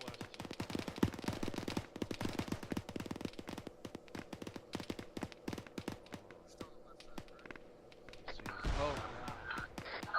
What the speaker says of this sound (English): More shots southwest.